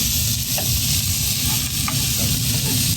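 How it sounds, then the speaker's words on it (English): Steady, dense sizzling of food frying in a hot pan inside a van, with a few faint clinks of stirring over the continuous crackle. "looking nice and sizzling in here"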